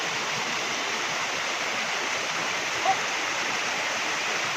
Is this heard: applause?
no